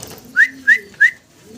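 Shallow fancy pigeons, a young pair, giving three short rising whistly coos spaced evenly over a second and a half, close and clear against a quiet background.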